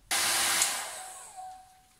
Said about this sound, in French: Et puis on a le sèche-cheveux en lui-même.